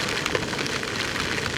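Heavy rain falls loud and close in a continuous, even patter of drops striking surfaces, with no one speaking.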